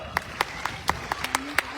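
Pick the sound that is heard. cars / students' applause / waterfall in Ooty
students' applause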